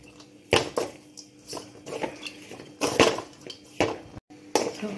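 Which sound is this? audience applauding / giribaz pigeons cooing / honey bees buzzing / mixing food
mixing food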